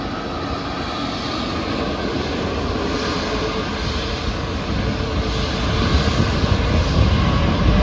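An Air India airliner takes off at a Mumbai airport, its jet engines giving a loud, steady roar that swells louder toward the end as the plane powers up, heard from a nearby viewpoint with no talk.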